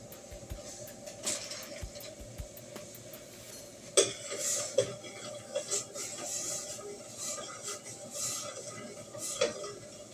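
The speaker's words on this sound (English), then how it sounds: "put the rice in there, mix it up, and bring back to a boil." Rice stirred in a metal pot, with scraping and occasional clinks of the utensil against the sides over a steady kitchen background.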